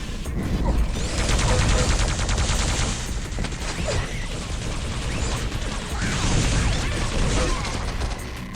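Combat in the video game Quake 3 Arena on the map Q3DM6 The Camping Grounds, rocket launcher blasts within a dense, continuous clatter of weapon fire and crashing impacts, loud and sustained across the whole stretch.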